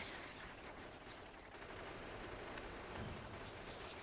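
Grenade explosions and combat fire in the video game Factorio form a dense, quiet rattle of overlapping bursts, with a slightly heavier thump near the end and no talking.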